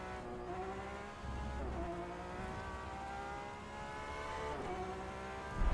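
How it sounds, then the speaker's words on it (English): A Porsche race car in the rFactor 2 racing game, its engine droning steadily and rising in pitch through the gears, with tire noise beneath and no talking. "Kinda like the Porsche sounds"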